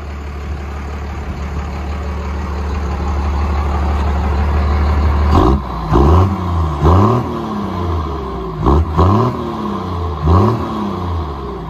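A Dodge Ram 5.9L Cummins turbo diesel with straight-pipe exhaust idles low, then revs hard in repeated bursts, its pitch swooping up and falling back several times, loud and close.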